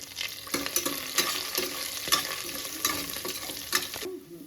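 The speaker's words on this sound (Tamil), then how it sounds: "முந்திரி பருப்பு நல்லா பொரிஞ்சிருச்சு." Cashew nuts fry in oil with green chilies for pongal, a soft steady sizzle broken by frequent spatula scrapes and stirs, close and fairly quiet, no voices.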